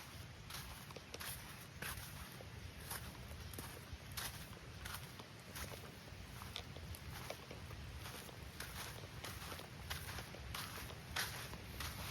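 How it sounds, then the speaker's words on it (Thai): Steady footsteps of a person walking along a path beside loud rushing water, regular and fairly close, going on for the whole stretch with no talking. "จะขอเดินไปเรื่อยๆจนกว่า จะถึง นะ"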